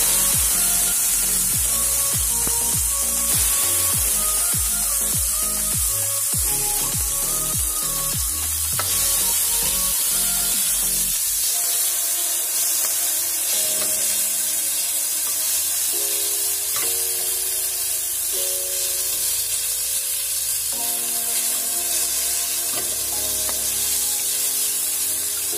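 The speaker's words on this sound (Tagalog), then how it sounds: "naglagay ulit ako ng konting mantika para igisan natin yung" Chopped tomatoes sautéing in a little oil in a pan, giving a loud, continuous hissing sizzle throughout, with scraping and stirring strokes during the first half.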